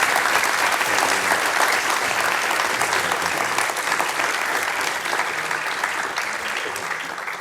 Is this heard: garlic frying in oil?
no